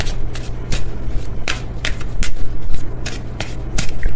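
A Stellar Energy Oracle card deck is shuffled up close in a tarot love reading, with quick repeated riffling snaps and flutters in an uneven rhythm.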